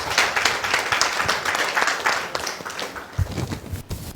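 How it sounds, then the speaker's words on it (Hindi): A church congregation claps to thank the Lord during a bishop's sermon, a dense burst of crowd applause that thins and fades after a few seconds as a voice comes in. "तालियां बजा के प्रभु को धन्यवाद।"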